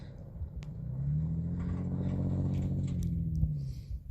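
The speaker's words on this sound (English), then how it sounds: "There goes a four-wheel driver." A four-wheel drive vehicle on a desert road near Fossil Ridge in Nevada's Desert National Wildlife Refuge rumbles past at moderate distance, its engine swelling to a steady low drone and fading slightly, with wind noise around it.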